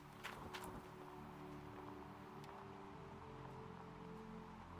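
Rain patters on a tent in Gold Mining Simulator, a faint steady drizzle of soft taps over a low humming background, with a couple of sharper ticks early on.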